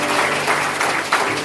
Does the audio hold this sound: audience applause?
yes